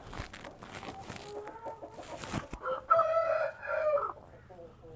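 Shamo chickens on a farm, with a rooster's drawn-out crow rising over scattered clucks and light background noise, the calls close and clear near the middle.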